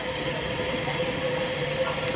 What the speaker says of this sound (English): we've got a train now just coming in